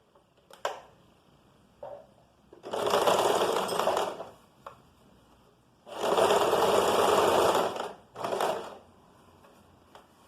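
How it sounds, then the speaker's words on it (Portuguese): A sewing machine stitches bias tape along a fabric edge at a half-centimetre seam allowance, running in two longer bursts and a few short ones, loud and close with quiet pauses between. "costurando bem na beirada aí a meio centímetro de margem de costura"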